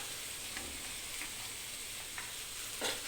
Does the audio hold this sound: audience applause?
no